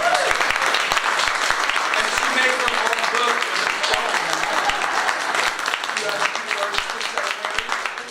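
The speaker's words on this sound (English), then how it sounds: "So give her a round of applause." Audience applause for the winner of a blind ghost-story writing competition at a reading event, sustained dense clapping from a full room that holds steady for about eight seconds before easing slightly, with some voices mixed in.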